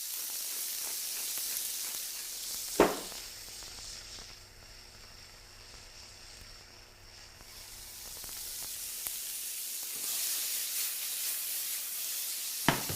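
Beef searing in a hot pan for stroganoff, a steady close sizzle and hiss that dips in the middle and swells again, with a couple of sharp knocks.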